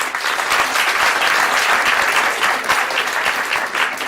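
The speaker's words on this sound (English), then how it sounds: "So a big hand of applause for..." Sustained audience applause at a conference session, a dense, even wash of many hands clapping at steady loudness throughout, with no speech over it.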